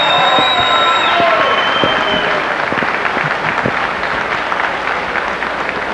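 Applause from a boxing hall of fame induction crowd greeting former welterweight champion Billy Backus, a steady roar of clapping and cheers, with a few whistles early on.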